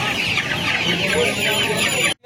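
Hybrid Australorp chickens cluck steadily at a hen market in Uluberia, a dense chorus of hens with a sharp, bright edge, cutting off abruptly at the end.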